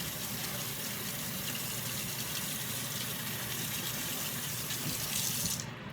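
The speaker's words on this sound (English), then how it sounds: "we're going to rinse it with some cold water" Cold tap water runs steadily and loudly into a sink as fabric dyed with vegetables is rinsed beneath it, a continuous close splashing stream that cuts off abruptly at the end.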